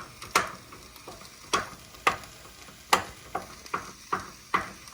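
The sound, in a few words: ground beef and onion frying and being stirred in a pan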